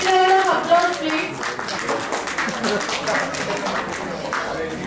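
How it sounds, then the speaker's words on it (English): A round of applause for a teacher at a school alumni reunion, scattered hand claps from a gathered group, moderately close, mixed with voices talking over it. "Big round of applause please."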